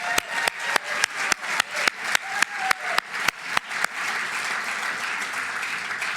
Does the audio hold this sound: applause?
yes